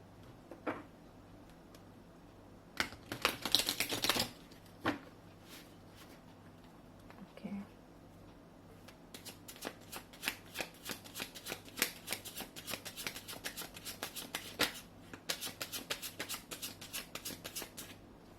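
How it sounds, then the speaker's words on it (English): Cards are shuffled close up in quick riffling bursts, with softer flicks and taps between, and a voice speaks quietly at times. "I'm being called to shuffle once more,"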